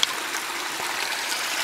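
Water tumbles steadily down small waterfalls between outdoor ponds, a continuous broadband rush heard close and even throughout, with no voices.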